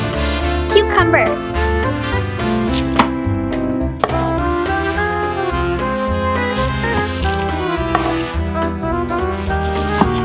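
A knife chops cucumber on a board while a seafood dish is prepared. Occasional sharp cuts sound under steady background music.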